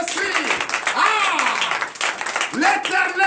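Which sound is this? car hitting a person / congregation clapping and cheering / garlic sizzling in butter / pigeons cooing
congregation clapping and cheering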